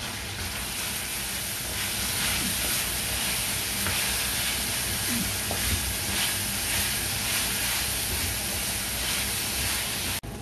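Onion sizzling steadily in a hot pan with browned lamb for cochifrito, a continuous close frying hiss with faint crackles that runs unbroken the whole time.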